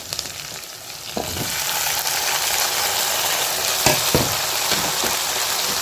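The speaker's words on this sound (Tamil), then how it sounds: "இப்போ இதையும் சேர்த்து நல்லா வதக்கிக்கிறோம்." Onion and tomato sizzle and fry continuously in a pan, with occasional scraping knocks of a spoon stirring the food.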